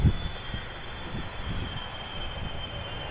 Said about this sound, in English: This is KLM Flight 736, arriving from Curaçao.